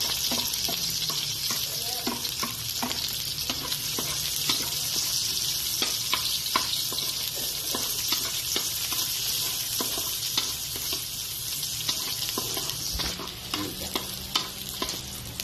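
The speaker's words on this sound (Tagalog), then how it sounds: "Saute na maayos ang ating bawang para mas lalabas po yung aroma" Garlic sautéing in oil in a kawali with onion added, a constant bright sizzle and crackle with frequent spoon-stirring clicks and scrapes, close and steady throughout.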